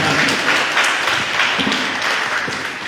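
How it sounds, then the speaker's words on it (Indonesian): Audience at an Indonesian book discussion applauding, dense steady clapping filling the room, fairly loud and close, with no talk over it. "Boleh minta tepuk tangan dulu ya guys, saya apresiasi."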